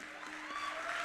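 Audience applause for keyboard player Shashwat at a women's singing contest, a brief steady wash of clapping at moderate level with a faint tonal hum under it.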